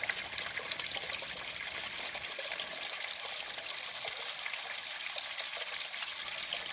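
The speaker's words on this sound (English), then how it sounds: "See, it's filling up." Water from a low-head, unpowered transfer pump trickles and gushes steadily into a container, a continuous close splashing hiss with no voices.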